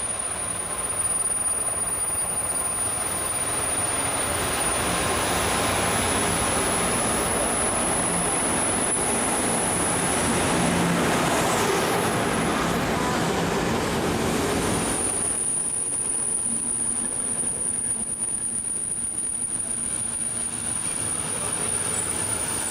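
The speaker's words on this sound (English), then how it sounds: "The train approaching is the train we're going to get on for Rome." A passenger train rolls into a station in Italy, a loud steady rumble of wheels on rails with squealing brakes, continuous and close, then the noise thins as it slows.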